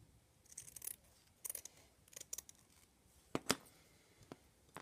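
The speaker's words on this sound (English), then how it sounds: "I'm going to cut quite a way down and then cut across." Scissors cutting felt for a bookmark, heard as a few quiet, close snips in short irregular bursts against near silence.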